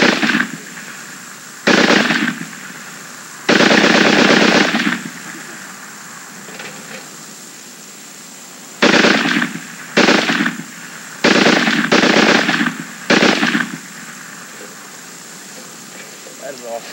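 Machine gun fire in loud, sustained bursts of rapid shots separated by pauses, close by, with people talking between the bursts.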